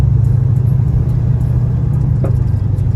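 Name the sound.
1979 Chevy Monte Carlo driving on road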